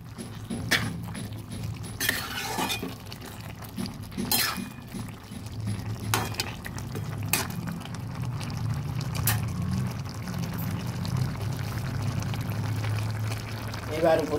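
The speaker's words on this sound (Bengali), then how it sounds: "আর যেটুকু ছিল ওর মধ্যে একটু জল দিয়ে আমি দিয়ে দিলাম।" Water is poured into a cooking pan of ridge gourd and potato curry, making a continuous pouring wash with scattered clinks and knocks of utensils against the pan.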